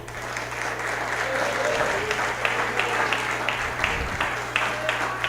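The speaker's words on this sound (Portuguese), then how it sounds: "Aplauda ao Senhor." A church congregation breaks into sustained, loud applause: dense clapping fills the room with a few sharper claps on top, and a voice is heard faintly beneath it.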